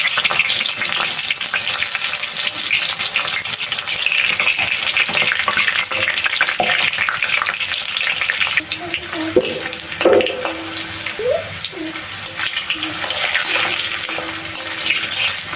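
Banana slices deep-fry in hot oil for crispy chips, giving a loud, continuous hissing sizzle with occasional bubbling pops and a few utensil knocks near the end, heard up close without speech.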